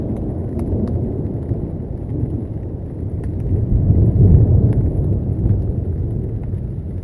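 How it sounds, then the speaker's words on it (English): Deep rolling thunder rumbles steadily, swelling in the middle and then easing, with light scattered taps of rain on top, heard from under a tarp on a backcountry trail near Cathedral Creek. "A couple of big rolling thunders."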